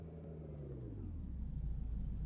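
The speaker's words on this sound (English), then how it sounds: "Ooh, nice car." A car pulls up in the Roblox game Midnight Dessert, a low engine rumble that swells steadily and grows louder as it approaches, with no talking over it.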